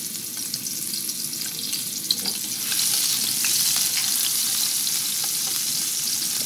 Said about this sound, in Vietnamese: Để mình phi hành cho thơm ha,